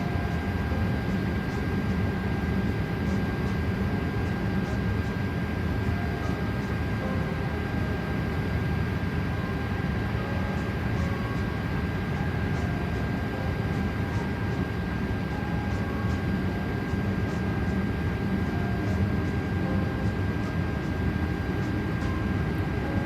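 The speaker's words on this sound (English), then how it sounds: "It seems like the engines are doing a full startup" Airbus A330 engines spool up during startup in a flight simulator, a continuous broadband turbine roar with a thin high whine running steadily and evenly throughout, moderately loud with no talking.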